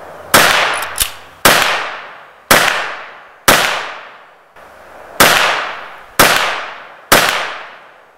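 A Kel-Tec PMR-30 .22 Magnum pistol fires target-load ammunition in eight sharp, loud, close cracks at uneven intervals, each followed by a short fading echo.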